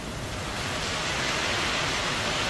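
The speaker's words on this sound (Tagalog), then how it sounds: "Kaya lang inabot tayo ng malakas na ulan." Steady, dense hiss of heavy rain pouring continuously in Tabaco, Albay, loud and close, with no voices.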